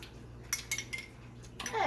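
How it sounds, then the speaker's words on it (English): Spoon stirring pink Himalayan salt into chicken and vegetable soup, a few quiet metallic clinks against the pot spaced through a low hum, ending in a brighter scrape. "Let me stir in some of that salt."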